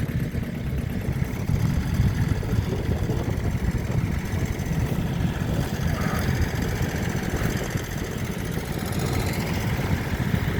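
A small 13 horsepower Iseki tractor runs steadily at a plough day on sandy land, a constant low chugging engine drone without pauses.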